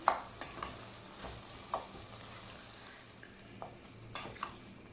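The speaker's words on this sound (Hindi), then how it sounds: "और इससे कीमे को भून लूँगी।" Minced mutton keema frying in masala, a steady soft sizzle broken by periodic scrapes and stirs of a spoon against the pan, close and moderately quiet with no voices.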